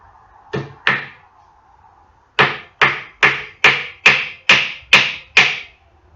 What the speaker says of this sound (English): The hammer should be used from the edge